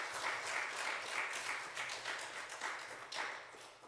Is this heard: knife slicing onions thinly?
no